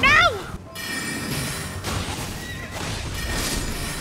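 A horse in the video game Elden Ring lets out a short, loud, falling whinny at the very start, followed by steady game noise and scattered impacts.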